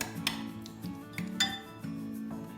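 Spoon clinking against a bowl while stirring oil, salt and other ingredients for a Turkish manti dough, several sharp metallic taps over a low scraping hum, close and alone.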